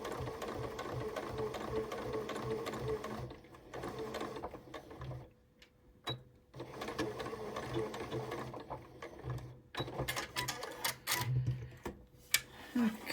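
A sewing machine stitching a fabric cathedral window Christmas tree decoration, with a steady, close mechanical whir in long runs broken by short pauses and a few handling clicks and knocks near the end, and no voices.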